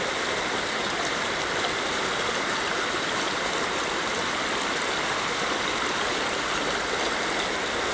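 Mountain-fed Morgan Brook in Connecticut rushes steadily over rocks, a continuous close broadband wash of flowing water with no pauses and no voices.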